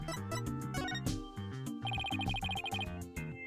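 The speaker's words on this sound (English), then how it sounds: "Who was that phone call from?" A phone ringtone from the video game Phoenix Wright: Dual Destinies, a bright repeating electronic chime pattern playing over the game's melodic background music, clear and steady for a couple of seconds.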